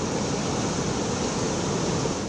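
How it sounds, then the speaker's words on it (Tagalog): Strong typhoon wind roaring with crashing waves along the coast of Gonzaga, Cagayan during Typhoon Marce, a dense, loud, unbroken rush of noise close to the microphone throughout. "Ganito kalakas ang hangin naranasan sa bayan ng Gonzaga, Cagayan, dala ng Bagyong Marce kaninang hapon."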